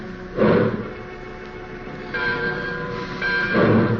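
Rumbling train noise with rhythmic heavy pulses and rising mechanical drone, like cars starting to move along the track.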